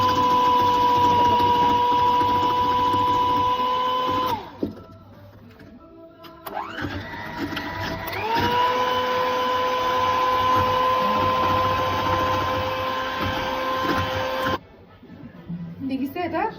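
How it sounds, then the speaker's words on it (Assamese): Electric blender whirring steadily as it whips egg whites for a chocolate cake, a loud close motor drone that cuts out briefly then spins back up and runs on, with no talking. "এতিয়া কণী হোৱাইট পৰ্চেণ্টটো ব্লেণ্ডাৰ দি ব্লেণ্ড কৰি ল'ম।"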